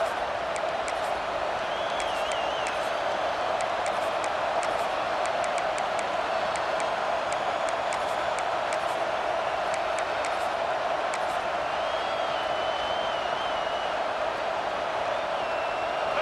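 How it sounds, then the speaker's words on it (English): A virtual stadium crowd in EA Sports College Football 26 keeps up a dense, steady roar of cheering throughout, loud and unbroken, with no distinct claps or breaks. "This crowd ready to make its presence known"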